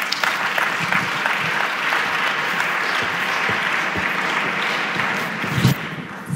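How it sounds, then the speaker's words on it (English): Sustained audience applause in a large conference hall at the re:publica technology conference, a thick, even roar of many hands clapping that holds steady and swells slightly near the end. "a louder applause, please, another round?"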